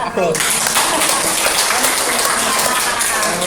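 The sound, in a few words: applause at a thesis seminar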